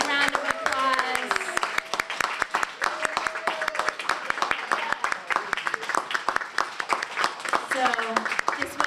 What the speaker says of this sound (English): I just want to see if we can give Haifa and a big round of applause.